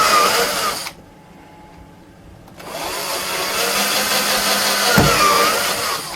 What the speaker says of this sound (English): with the step drill and then we'll just open them out with a standard drill bit